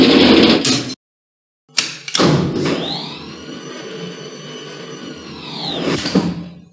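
Elevator doors on an animated Schindler M Series slide shut with a rising motorized whine that holds steady for several seconds, following a couple of sharp knocks and ending in a soft closing thud, close and clear.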